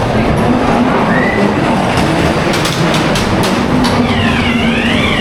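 Ghost Train dark ride cars roll along their track at Blackpool Pleasure Beach, a steady loud rumble with faint rhythmic clatter and occasional sharp squeals running throughout.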